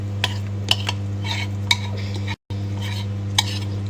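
Chocolate being stirred in a pot for a thermos, giving intermittent soft scrapes and clinks of a utensil against the vessel over a steady low hum, with one brief dropout.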